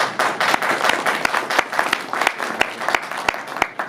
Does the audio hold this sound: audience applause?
yes